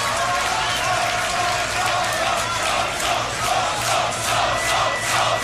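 A crowd at a beatbox battle cheering and clapping, a dense roar of voices and applause with rhythmic surges, loud and continuous throughout.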